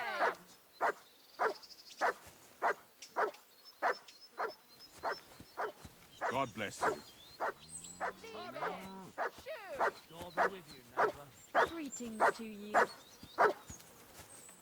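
Dog barking repeatedly in the medieval village of the video game Kingdom Come Deliverance 2, a steady series of sharp barks with brief whimpers, under a voice speaking and addressing the animal.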